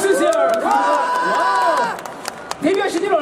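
A crowd at a Lotte World concert cheers and applauds loudly at first, then the noise fades; speech overlaps the clamor.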